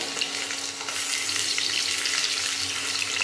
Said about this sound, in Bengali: একটু ভালো করে লাল লাল করে আলুগুলো ভেজে